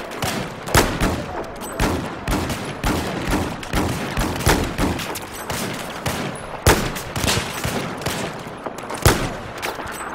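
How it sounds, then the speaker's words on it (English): Rapid bursts of gunfire in a multiplayer shooter game, loud, dense and close, with sharp repeated shots and volleys filling the whole stretch. "we're getting shot from the fucking left hand side"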